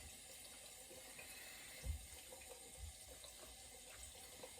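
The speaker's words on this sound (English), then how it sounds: "I'm going to add quite a bit of water," Water runs steadily from a tap onto Mitchell's Wool Fat shaving soap as a boar brush works up a lather, with a couple of soft low thumps partway through.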